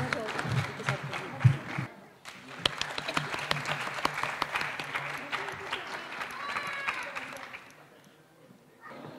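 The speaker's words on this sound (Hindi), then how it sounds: "इनके लिए ढेर सारी तालियां प्लीज़" Audience applause at an award ceremony, brisk crowd clapping with a few voices mixed in, holding steady before fading away toward the end.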